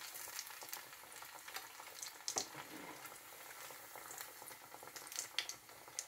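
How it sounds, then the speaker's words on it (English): Potato kofta balls fry in oil over a medium flame, giving a quiet, even crackle with small irregular pops and bubbling, steady from start to finish with no voices. "Fry them on medium flame"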